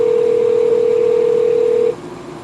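A steady telephone dial tone hums loudly and continuously for about two seconds while a call is being placed, then cuts off abruptly, leaving faint background noise.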